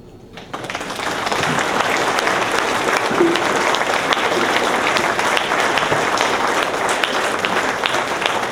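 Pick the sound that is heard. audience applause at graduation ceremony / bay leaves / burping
audience applause at graduation ceremony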